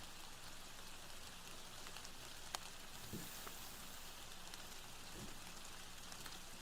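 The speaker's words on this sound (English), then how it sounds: "if the rain audio is too much, tell me" Rain falls steadily as a faint, continuous hiss with soft scattered drops, playing as quiet ambient background with no voices.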